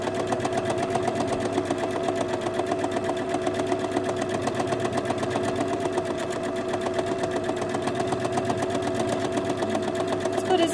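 A domestic sewing machine doing free motion quilting runs steadily at close range, its fast, even needle clatter repeating without a break over a constant motor hum.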